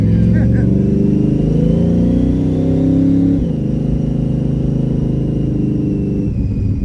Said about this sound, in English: Man, that whine on that, that is so cool.